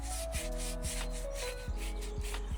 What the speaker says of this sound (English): I want to use the brush. I'm just gonna scrub the tire like this.